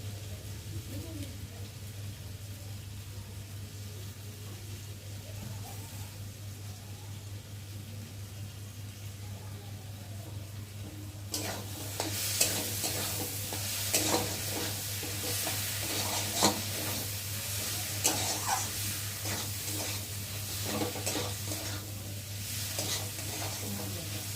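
Chow mein stirred with Kissan sauce in a frying pan: a quiet start under a low hum, then loud scraping, tossing strokes and sizzling, close and continuous.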